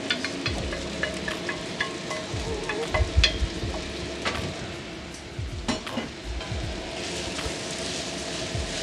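Kimchi fried rice with bacon sizzles and crackles in a cast iron pan while a utensil stirs and scrapes, giving steady close frying noise with occasional clinks and knocks.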